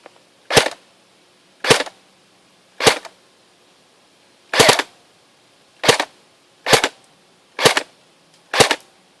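A JG AUG A3 airsoft electric gun fires BBs in eight sharp, loud single shots, spaced unevenly about a second apart, each a crisp snapping crack with a brief tail, close by and with no talk.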